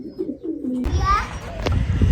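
Racing pigeons coo at a loft before their first training flights, a soft low cooing near the start, then a brief burst of chirpy calls and rustling with a voice faintly in the mix.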